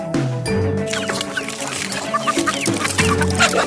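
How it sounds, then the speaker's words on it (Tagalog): Backyard chickens clucking steadily while feeding on leftover scraps in a rural yard, several birds murmuring close by in overlapping bursts with a continuous busy texture. "Hindi, pagkain ng manok yan, Will. Pagkain sa chicken, ha?"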